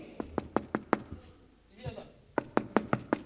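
A preacher knocks during a sermon: two brisk runs of sharp, close knocks, about five in each, separated by a short pause.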